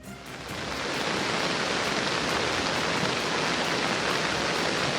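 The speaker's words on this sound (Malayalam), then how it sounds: "വളരെ ശക്തമായ മഴ പെയ്യുകയാണ്" Heavy rain pours during a cloudburst in Uttarakhand. It is a dense, constant hiss that swells in at the start and then holds steady and loud, with no voices.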